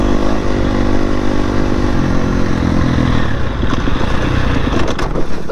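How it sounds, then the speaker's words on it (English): A motorbike engine runs loud and close with a steady low rumble, then falters into rougher, uneven sputtering as the bike stalls, with clattering in the final seconds. "Stalled the bike, stalled the bike"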